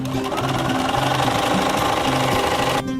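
A sewing machine hums continuously at close range, running a zigzag stitch in one unbroken loud stretch before cutting off near the end.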